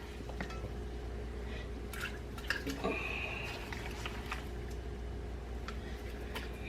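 Chicken skin and bones are dropped into a pot of water, giving a few soft splashes and drips with light clinks over a low steady background hum.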